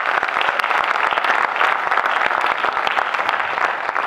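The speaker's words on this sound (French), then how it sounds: "Applaudissez très fort pour vous." An audience at a Brazzaville cultural event applauds warmly. The clapping is thick and continuous, with sharp individual claps standing out from the steady wash.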